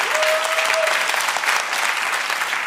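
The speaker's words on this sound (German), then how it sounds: "Jetzt könnt ihr euch einmal selber einen Applaus geben." Studio audience applauding on a German TV schlager show, a dense, steady wash of clapping at full level for a few seconds, with a brief tone running through it early on.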